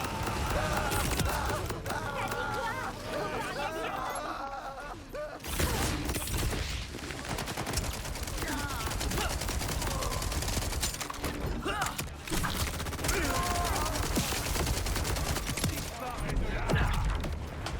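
Gunfire in the video game Borderlands 4, a dense continuous stream of rapid shots and mechanical clatter mixed with game music and effects, loud and steady throughout, with a voice talking over part of it.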